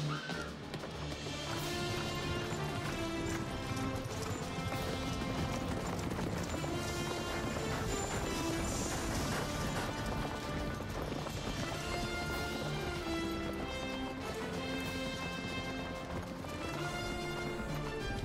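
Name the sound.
horse galloping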